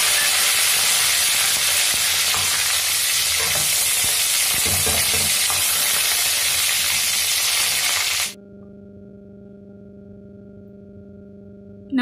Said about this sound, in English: add curry leaves